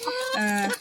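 A short, close chicken call, a brief throaty cluck-like vocalization lasting under a second.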